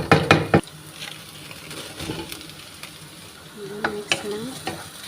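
Fried potatoes and carrots stirred with onions in a pan while making chicken mashkol, a steady sizzle with scraping stir strokes, louder clatter at the start, and faint voices in the background.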